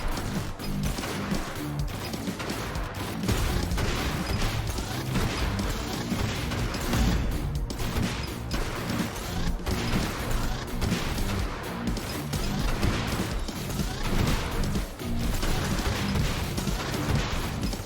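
A mech fires big purple bullets in NeuroSquad, a dense, continuous barrage of crashing, artillery-like shots and impacts that stays loud and steady throughout.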